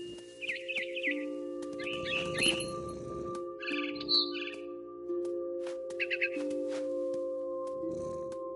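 Small birds chirp in short, bright bursts in What Remains of Edith Finch, repeated several times over a steady humming ambience in the game's big tree scene, with no voices.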